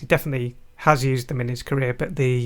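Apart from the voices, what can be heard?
No distinct noise like a dog, phone or traffic.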